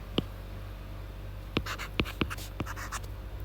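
Pen or marker writing by hand on a board during a maths lesson on set operations, heard as a few short separate scratchy strokes over a low steady hum, with no talk.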